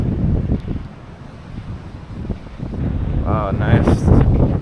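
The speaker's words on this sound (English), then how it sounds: "Maybe it's a little too breezy for this beach." Strong wind buffets the microphone on a breezy Maui beach, a steady rumbling roar that rises and gusts louder near the end while a person speaks briefly over it.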